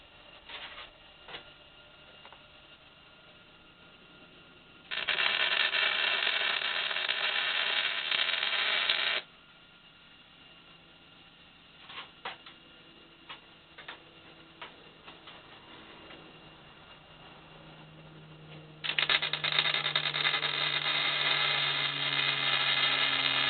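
Metal being welded on a Rover P6 driveline: two loud, steady crackling bursts of about four seconds each, separated by quieter scattered clicks and handling noises, with no talking.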